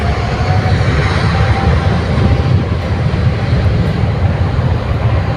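An airplane speeds up along the runway at an airport in Bangladesh, a loud continuous rumbling roar of engines that fills the whole stretch at a steady, powerful level.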